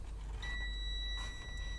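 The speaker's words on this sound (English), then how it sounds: "Stop beeping." A steady, high-pitched electronic beep tone from a meter sounds continuously, close and clear, over a low background hum, while testing a Pioneer SX-550 receiver.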